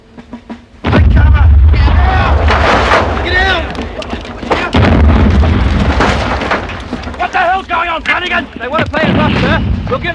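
Artillery guns firing on a First World War battlefield, heavy booms breaking out repeatedly with loud low rumbles, mixed under shouted voices and talk throughout.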